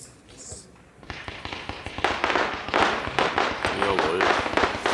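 A 200-shot Lemon Pink Rosette firework battery fires outdoors in a rapid string of popping bursts that grows denser and louder after a quieter opening, while people talk faintly underneath.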